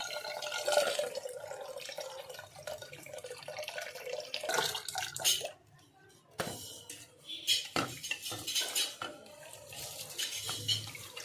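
Rice rinsed under tap water in a home kitchen, with running water, splashing and clattering of a pot and utensils in irregular bursts, close and fairly loud, pausing briefly midway.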